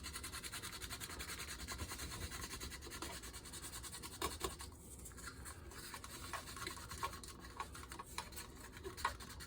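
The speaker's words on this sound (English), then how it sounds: "I'm going to sand, file, smooth over my dents. I think this is 400 grit here." Soft, repeated scratchy rubbing of 400 grit sandpaper smoothing dents on a model car body, quiet and close, in irregular back-and-forth strokes without talking.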